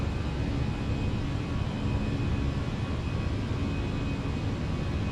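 Fenix Airbus A319 engines in a flight simulator game, a steady, loud broadband roar with a faint high whine, constant throughout with no talk.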